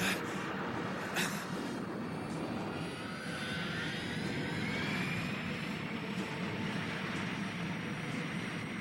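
Cartoon spaceship wave motion engine roaring at full blast, a steady loud broadband rumble with rising whine tones sweeping upward throughout, like a jet airliner takeoff, with no voices.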